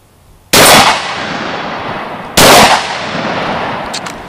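Two loud, close shotgun blasts from a 12 gauge coach sawed-off firing slugs at 25 yards, about two seconds apart, each a sharp crack with a ringing decay, no talk over them.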